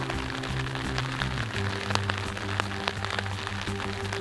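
Steady rain falls on a foggy, misty mountain trail near Jinshan in Taiwan, a dense continuous patter with scattered sharper drop hits and a low steady hum beneath, close and unbroken throughout.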